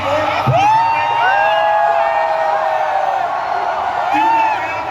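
A large convention crowd at a CCXP México panel roars with sustained cheering, whoops and shouts, loud and continuous throughout.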